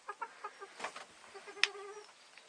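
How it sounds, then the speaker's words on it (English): Chickens, including a broody hen, cluck softly in a coop in a quiet run of short, irregular calls, with one sharper call partway through. "Come on, chickens, let's leave the hedgehog to it."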